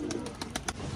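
A group of four pigeons at a pigeon tournament coo low and soft, with a few short bright chirps spaced across the moment and no voices.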